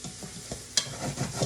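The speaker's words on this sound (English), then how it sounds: "once those onions start sweating" Onions sweating in a pan for a traditional marinara make a soft, close sizzle, broken by a few stirring knocks and one sharp scrape midway, with no talking.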